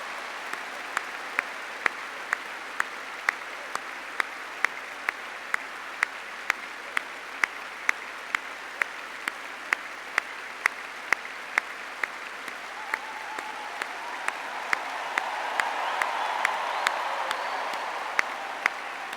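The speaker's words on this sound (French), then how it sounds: "je vous demande d'acclamer Marie en l'applaudissant très fort" A young crowd at World Youth Day 2022 in Dakar applauds to acclaim Mary, a broad, fairly distant wash of clapping cut through by regular sharp clicks, swelling slightly toward the end.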